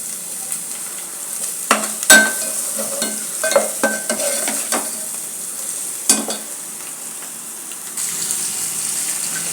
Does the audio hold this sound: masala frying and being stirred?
yes